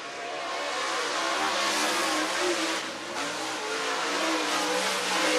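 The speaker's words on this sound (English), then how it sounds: "Coming up next will be the 57T car, Cleveland, Ohio's Matt Tiff" Race car engine roaring as it accelerates at Whynot Motorsports Park in Meridian, Mississippi, a loud continuous rasping drone that swells, dips briefly near the middle, then builds again.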